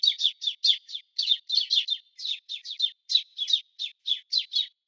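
A flock of sparrows chirps in rapid, dense bursts of short high tweets, about twenty calls overlapping in quick succession, close and clear with no other sound.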